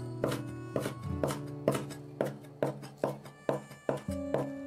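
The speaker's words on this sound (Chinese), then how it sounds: "小葱给它切成葱花" A knife chops scallions into small rings on a cutting board, a steady series of about a dozen crisp, close thuds at an even rhythm, with no talking.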